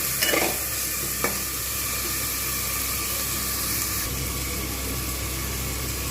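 Spiced mutton sizzling and frying in a pan, with a continuous loud crackling hiss and a couple of brief stirring scrapes near the start.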